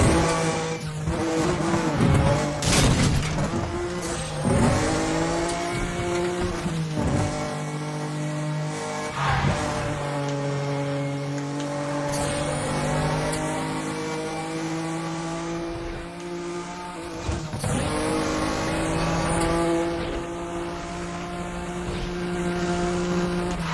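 A Nissan GT-R race car fitted with a body kit roars through a race in Need for Speed The Run, its engine revving loudly and shifting pitch as it accelerates, with brief tire squeals and skids along the way.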